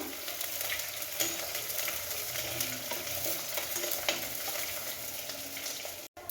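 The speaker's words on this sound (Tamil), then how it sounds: "இப்போ இந்த வெங்காயம் நல்லா வசங்கட்டும்" Onions sautéing in a pan for a fish curry give a steady, close sizzle and crackle with faint stirring scrapes throughout, no talk.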